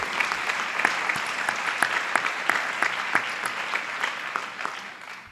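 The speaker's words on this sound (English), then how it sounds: "why don't we give him a round of applause" Applause at a school PTA council banquet, a warm roomful of clapping sustained steadily for several seconds with sharp individual claps standing out, tapering slightly at the end.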